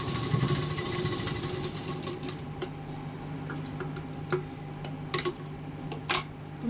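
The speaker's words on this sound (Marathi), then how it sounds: "आता याच्यावरती आपण शिलाई मारून घेऊ." Sewing machine running steadily close up while stitching pleats on a blouse sleeve, a continuous mechanical whir with rhythmic ticking and a few sharp clicks near the end, with no speech.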